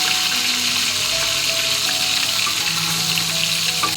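Fish frying in hot oil gives a loud, constant dense sizzle, close and steady throughout, with faint kitchen tones beneath and no talking.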